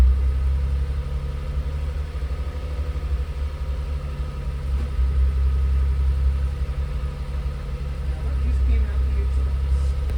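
A rebuilt car engine idling low after adjustment, a steady deep rumbling drone close to the microphone, continuous and even for the whole stretch.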